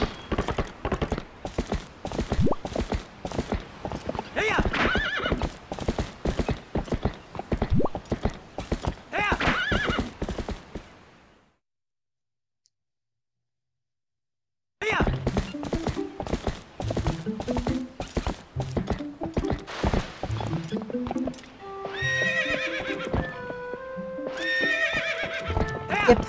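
Epona the horse in The Legend of Zelda: Twilight Princess gallops with steady rapid clip-clop hoofbeats, breaks off into a few seconds of silence, then resumes galloping and lets out high whinnying neighs near the end.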